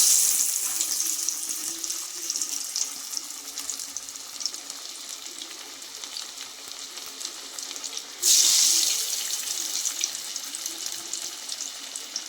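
Water runs steadily from a kitchen tap in a continuous hiss, growing suddenly louder and fuller partway through, with no talking.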